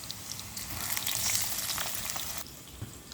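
Potatoes frying in hot oil for idiyappam kothu, a steady bright sizzle with a crackling, bubbling texture that holds loud and even for about two and a half seconds, then drops to a quieter fizz.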